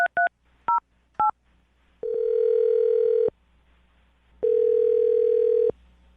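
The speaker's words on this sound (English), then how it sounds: "I'm going to dial their phone number right now." Telephone keypad dialing: three short two-tone beeps in quick succession, then two longer steady tones, loud and close, with no talk.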